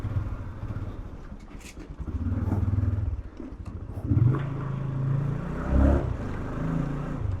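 A motorcycle engine rumbles steadily as the ride sets off along rural roads in Bangladesh, swelling in bursts of throttle over a constant low drone.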